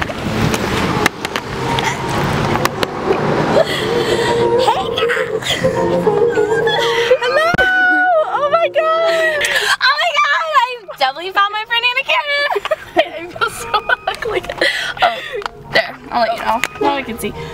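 A person screams and shrieks in rising, wavering cries amid talk and laughter, loud and close over background traffic noise.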